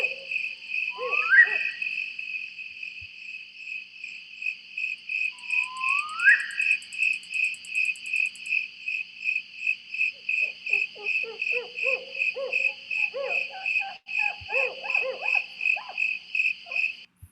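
Male spotted owls calling in mountain forest: a run of short, rhythmic hoots and barking notes building through the second half, with upward-sweeping whistled calls early on, all over a constant high insect trill.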